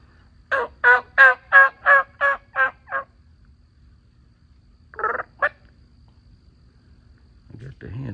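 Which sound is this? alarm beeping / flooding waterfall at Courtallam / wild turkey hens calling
wild turkey hens calling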